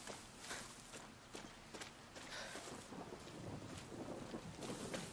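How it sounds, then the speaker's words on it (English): Video game thunderstorm effects: steady rain hiss with low rumbling thunder, faint and continuous, with soft repeated thuds like footsteps underneath. "You hear the thunder, and here comes the rain."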